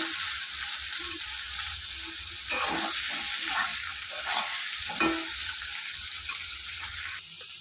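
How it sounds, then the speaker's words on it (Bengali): Spices and potatoes fry and are stirred in a pan for a fish curry, giving a steady close sizzle with scraping stir strokes around the middle and no talking. "ভালো করে নাড়াচাড়া করে নেব"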